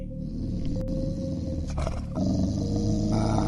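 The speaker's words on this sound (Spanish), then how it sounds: "Maxi le comenzó a ladrar a la oscuridad de la noche" A dog growls and barks into the dark night, a low rumbling snarl that runs throughout, loud and fairly close, with no talking.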